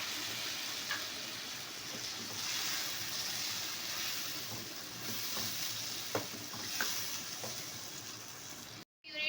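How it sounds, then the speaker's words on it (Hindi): Steady sizzling hiss of tomato puree frying in a pan for mutton karahi, with occasional small pops and stirring sounds, close by and continuous, ending in a brief cut. "ये टमाटो प्यूरी है, मैं इसमें टमाटो प्यूरी ऐड कर दूँगी।"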